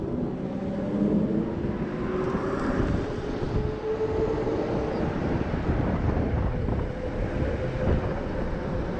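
A Juiced Bikes HyperScrambler electric bike at full throttle, a steady rising whine under heavy wind rush, with no talk.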